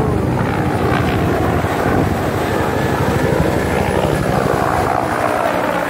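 Three helicopters fly overhead, their rotors producing a steady, loud, continuous thudding drone throughout with no letup.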